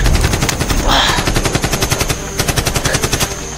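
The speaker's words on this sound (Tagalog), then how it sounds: "May putok!" Rapid automatic gunfire in a shooter video game, loud bursts of repeated shots forming a fast rhythmic rattle that continues throughout, with no voices over it.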